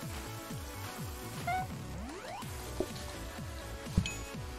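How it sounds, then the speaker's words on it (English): Rain falling outside in the cooking video game PlateUp!, a faint steady patter of drips under layered game sound effects and music, with a couple of small clicks. "It's raining outside."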